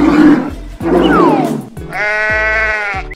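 A sheep bleats loudly and close by, a wavering nasal cry after a couple of rougher grunting calls, with no talking.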